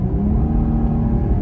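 A 2022 Jeep Grand Cherokee L three-row SUV engine revs in sport mode, a steady low rumble held at higher RPM, loud and close throughout with no talk.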